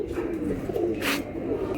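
Soft, steady cooing of pigeons with a brief wing flutter or rustle partway through, fairly close.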